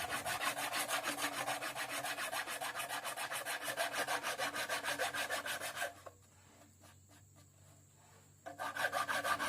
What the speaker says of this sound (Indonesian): Ini pakai amplas yang kasar dulu,